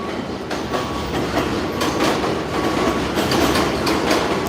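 A loud train rumbles past in an urban concrete setting, a steady dense roar with rhythmic clattering of wheels over rail joints and occasional squealing, filling the clip without any talk.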